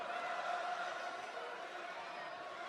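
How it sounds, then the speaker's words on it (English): Raucous crowd at a WWE wrestling event in Columbus, Ohio, during a side headlock, a steady, dense roar of many voices filling the arena with no break, fairly distant and continuous. "Raucous crowd here tonight in Columbus, Ohio."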